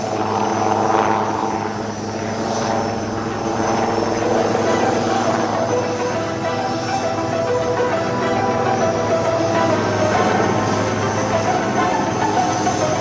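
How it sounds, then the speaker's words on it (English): HAL Prachand light combat helicopter at the Aero India 2023 airshow, its rotor and turbine roar filling the air steadily and loudly as it manoeuvres in front of the crowd, with faint commentary underneath. "light combat helicopter Prachand, right in front of you"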